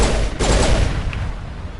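Gunfire from the video game Mass Effect: a dense, loud burst of shots in the opening half second, then a ringing, fading wash of battle noise with no voices.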